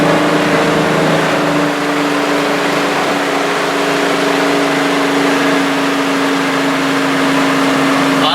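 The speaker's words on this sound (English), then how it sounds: "I don't know if you can hear the tones coming out of the exhaust, but we got a Flowmaster system." A steady, throaty V8 exhaust from a 1965 Mustang Cobra resto-mod with a Flowmaster system drones continuously with a low rumbling tone, holding an even idle without revving.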